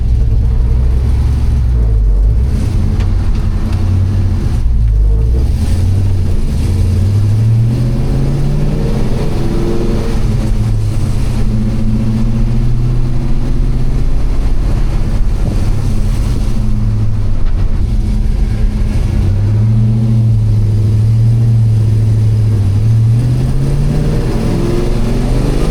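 A car's engine runs steadily while driving around the 1200 to 1400 RPM range, tuned with a Holley Terminator X drive-by-wire setup and a Tremec TKX manual; low rumble rises and falls with throttle, with constant wind and road noise and no talking.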